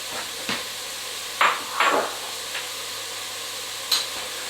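Minced garlic goes into a pan with cooked onions for Turkish lentil soup, sizzling under a steady hiss with several sharp scrapes and clacks of a spoon against the pan.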